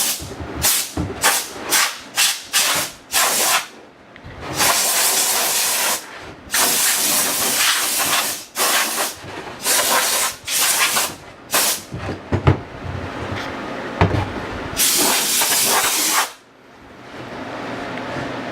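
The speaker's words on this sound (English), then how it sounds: "using compressed air is a good way after you sand to make sure that your surfaces are all clean" Compressed air blows dust off freshly sanded wood for a rustic key and letter organizer, a series of sharp hissing bursts of varying length, some short puffs and some longer blasts, loud and close.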